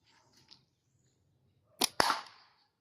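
Kettie slingshot firing a single shot at a target, a sharp close snap followed immediately by a crack and short rattling impact, alone in an otherwise quiet setting with faint scuffs beforehand.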